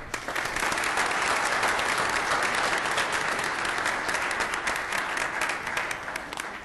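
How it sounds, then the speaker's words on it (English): An audience at an Elmhurst city council meeting applauds a third grade class from Emmanuel Lutheran Grade School, with loud, steady clapping that fills the room for several seconds and fades slightly at the end. "How about a round of applause?"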